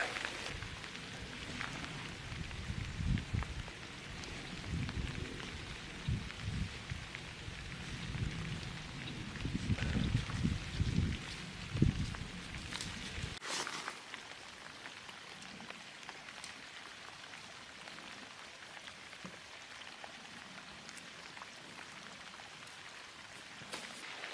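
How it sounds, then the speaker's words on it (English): Steady rain patters on leaves and ground in a forest along a hiking trail, heavier in the first half with low rumbling gusts, then settling into a lighter, continuous hiss. "made it to the top of the first hill today. And it's raining."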